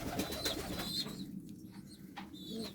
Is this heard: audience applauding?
no